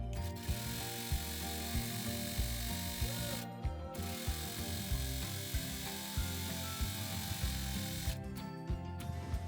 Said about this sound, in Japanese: ロックミシンをかける時にはさっき縫い代を折ったここの部分は開いてロックミシンをかけてください。